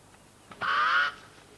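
A pied crow gives a single harsh, drawn-out call during a dry drought season, loud and close, lasting about half a second against a quiet background.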